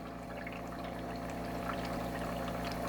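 A carburetor linkage part rinsed with distilled water after an acid pickle gives a steady pouring, splashing wash over a continuous low hum, close and unbroken.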